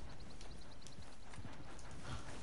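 A horse's hooves clip-clop in Red Dead Redemption II, a faint, quick run of even steps under steady background ambience.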